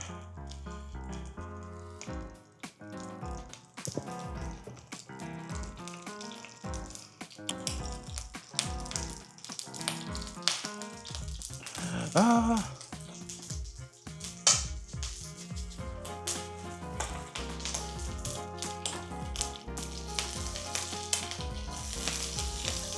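Steak sizzles and spits steadily in a hot oiled pan, close up, with water reacting in the oil, crackling pops and occasional scraping or stirring.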